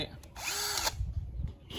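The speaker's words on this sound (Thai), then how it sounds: "สว่านไร้สายนะครับผม ก็สว่านสว่านไม่มีสายนั่นแหละ" A Keyang cordless drill, used for fitting metal sheet roofing, whirs in one loud close burst lasting about half a second, then cuts out and leaves low rumbling background noise.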